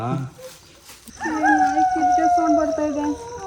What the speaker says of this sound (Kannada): ನಾಯಿ ಅಲ್ಲೆಲ್ಲೋ ಕಿಸ್ತೈತೆ ಬಿಡು